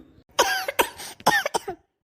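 A girl sick with a cold coughs several times in quick succession, a close, harsh run of four or five bursts over about a second and a half, then silence.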